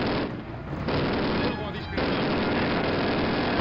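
Sustained gunfire from a Call of Duty match, a dense, continuous crackle of shots that is loud throughout with only brief dips, and some speech mixed in under the shooting.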